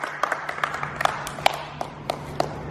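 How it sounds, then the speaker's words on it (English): Scattered hand claps ring out as everybody applauds Massimo, the sharp claps irregular and fairly sparse over a steady low hum. "This is the moment when everybody clap the hand to Massimo"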